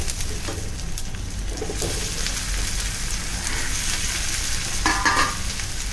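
Chopped onion and bay leaf fry in mustard oil in a pan, giving a steady close sizzle with occasional stirring scrapes, while birds coo faintly in the background.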